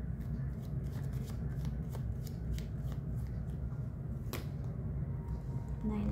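Tarot cards being shuffled and laid down by hand, a steady papery riffle and soft slapping close by, with a sharper card snap partway through, over a constant low room hum.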